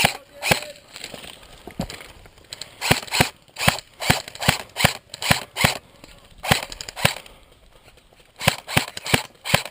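Airsoft guns fire outdoors in repeated sharp cracks, single shots and quick bursts spaced irregularly across the whole stretch, fairly close.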